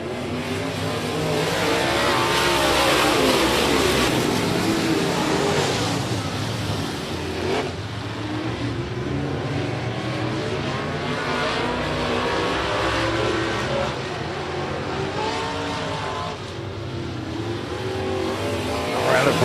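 Modified race cars roar around Big O Speedway in a dense pack, engines loud and continuous with rising and falling revs as cars pass close, and a faint announcer voice runs underneath.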